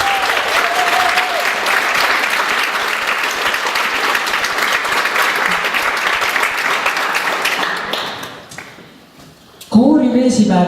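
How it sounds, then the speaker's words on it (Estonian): Dense, sustained audience applause at a choir concert, close and loud, fading out toward the end before a voice begins to speak. "Teeme veel kord suure aplausi Tarvakile."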